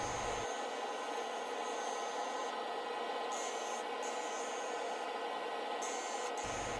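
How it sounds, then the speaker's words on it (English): A Carter & Son skew chisel cuts a spinning wood-and-resin bowl on a lathe, giving a steady, loud broadband hiss that runs unbroken through the whole stretch, with slight shifts in its high edge as the cut varies. "This is the Carter & Son skew chisel that you see me using here."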